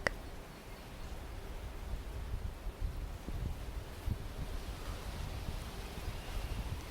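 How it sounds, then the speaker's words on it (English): Wind blows through the branches of blossoming trees on a spring walk outdoors, a steady soft rush of moving air with faint rustling that stays even throughout. "listen to the wind dancing with the tree branches to its own music"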